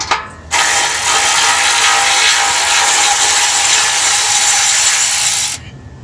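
A hand ratchet works on the tight exhaust bolts of a Mazda 6 during a cat-back install, giving a loud, near, continuous run of fast clicking that lasts about five seconds, with no talking.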